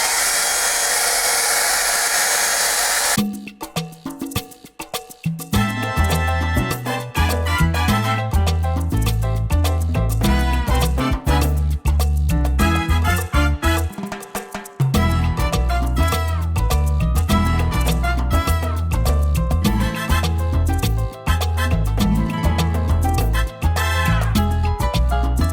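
A Philips ProCare Airstyler hot air brush runs close up with a steady, loud blowing whir that continues almost unbroken, dipping briefly a few times as it moves through the hair.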